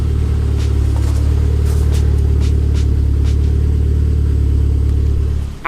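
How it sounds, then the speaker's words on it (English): Up close, the RS-engined Ford Focus ST idles with a steady, loud, deep rumble, unbroken throughout apart from a small dip at the very end. "Absolutely love the idle on this car."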